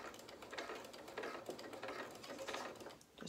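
Sewing machine stitching through bulky fabric on a soft-toy bear's head, a steady close mechanical whirring that runs almost without pause and dips briefly near the end.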